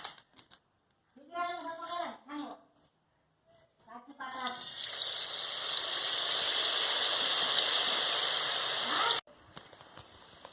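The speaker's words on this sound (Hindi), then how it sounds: "अभी हमारा ऑयल हीट हो गया। अभी हम सोयाबीन डाल देंगे।" Soybean chunks drop into hot oil and break into a loud, steady sizzle that holds for several seconds before cutting off abruptly. Brief speech comes first, then a pause.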